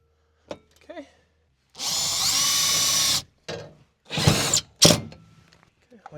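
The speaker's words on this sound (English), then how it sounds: "we're just going to be installing it with a 3/4-inch self-drilling screw." A power drill whirs in a few short bursts and one longer run, driving 3/4-inch self-drilling screws into an aluminum ceiling furring kit inside a Ford Transit van, with quiet clicks and handling noises between bursts.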